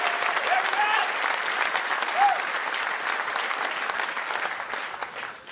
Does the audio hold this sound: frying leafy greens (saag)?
no